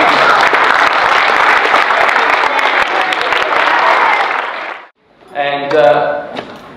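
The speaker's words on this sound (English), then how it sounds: "give our coaches a huge round of applause" Audience at a junior sports club presentation evening applauds the coaches with steady, loud, dense clapping for about five seconds; it stops abruptly and a voice speaks afterward.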